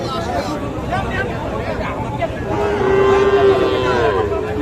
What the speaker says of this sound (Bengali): এটা কিন্তু ক্রস ষাঁড় বাচ্চা